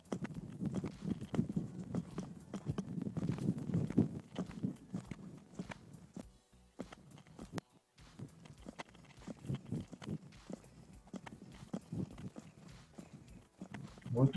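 A horse's hooves thud and clip-clop in an uneven rhythm during dressage training in an arena, moderately close, with a trainer's voice speaking intermittently over the hoofbeats.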